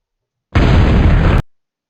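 A missile strike detonates in the strategy game Total Annihilation, a single loud, dense explosion burst lasting under a second, broadband and heavy in the low end, cutting off abruptly.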